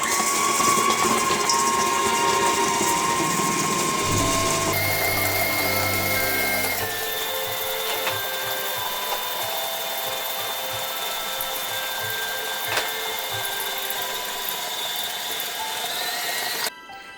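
Electric mixer creaming butter and light brown sugar at medium speed for cookie dough: a loud, steady mechanical whir with a rattling, grinding texture that shifts in pitch partway through and cuts off near the end.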